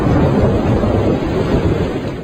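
Heavy rain pours steadily during a thunderstorm, with deep rumbling thunder rolling continuously underneath, loud and close.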